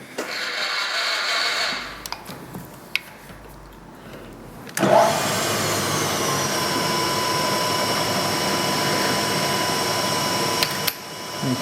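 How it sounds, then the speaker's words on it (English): A milling machine decking a metal part with a carbide end mill: a quieter stretch of whirring and clicks, then a sharp onset into a loud, steady high-pitched cutting whine that runs on until a final click. "so I'm just going to deck this off with a carbide end mill and bring it back to that little chamfer"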